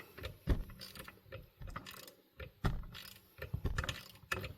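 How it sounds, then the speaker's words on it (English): Inch-pound torque wrench tightening a clutch bolt on a Can-Am Defender HD11, giving quiet intermittent ratcheting clicks and metallic handling noises in short irregular bursts, close by and faint. "This is an inch-pound torque wrench. So we'll just torque this down until we get to 48."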